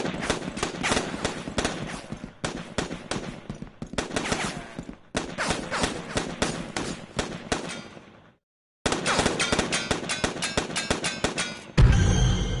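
Rapid automatic weapon fire in the video game Foreclosed, long loud bursts of clattering shots cut off by a short silence, then another sustained burst that ends in a low, heavier blast.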